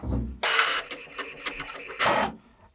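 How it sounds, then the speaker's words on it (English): An HP Envy 6120e inkjet printer whirs and clatters as it pulls the sheet back in to print the second side, a close mechanical feed noise with a few bursts of rattling, no talk. "And right away, it's pulling the paper back to print on the second side."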